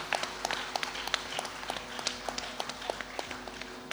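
Audience applause welcoming a young violinist at a music event, steady sparse clapping at a moderate distance with scattered sharp claps standing out.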